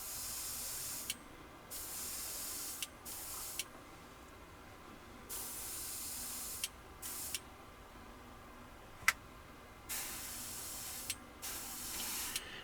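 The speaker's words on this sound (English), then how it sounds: "My operating pressure is, I think, about 7 psi on my airbrush." An airbrush run at about 7 psi lays paint on a Dodge Dart model in short bursts of soft, even hiss separated by quiet gaps, each burst starting and stopping with a faint click, close but low in level.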